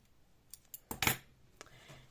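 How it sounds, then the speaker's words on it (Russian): Scissors trimming a length of crochet yarn thread, a few quiet snips and clicks with one louder cut in the middle, close and alone. "Теперь я обрезаю ниточку подлиннее"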